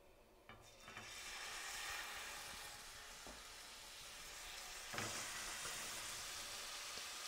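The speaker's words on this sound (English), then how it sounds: "in the same frying pan that we browned the pancetta, we're going to put them in and brown them a little bit" A stuffed pork tenderloin sears on high heat in a frying pan already used to brown pancetta, giving a faint, steady sizzle with a few soft clicks and scrapes.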